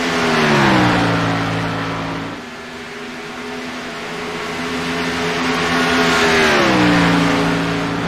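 A race car engine lapping Chicagoland speedway during an All American Racing League race, loud sustained drone rising and falling in pitch as it climbs through gears, dips, then surges again.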